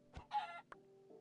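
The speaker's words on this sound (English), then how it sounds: "Hello, chicken." A chicken in a video game gives a few short, quiet clucks in quick succession over a faint steady background hum.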